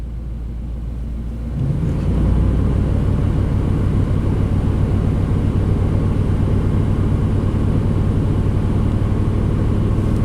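The engine of a '91 Chevy K1500 truck idles low, then is revved up with the throttle and holds a loud, sustained, raised drone close by, with no voices.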